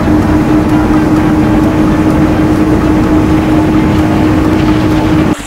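A toy boat's small motor drones steadily with a constant high whine, loud and unbroken throughout, then cuts off abruptly at the very end.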